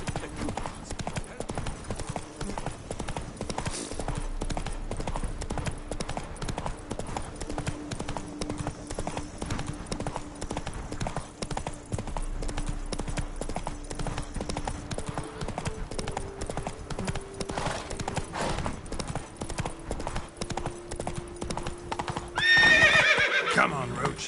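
Roach, a horse in The Witcher video game, gallops with steady rapid clip-clop hoofbeats, with louder neighs and a whinny bursting out near the end, while a voice speaks over it.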